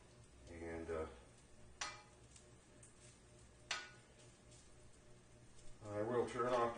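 Ham fried rice frying in bacon fat in a pan, heard as a faint, steady sizzle with a couple of sharp scrapes from stirring, while someone talks at the start and end.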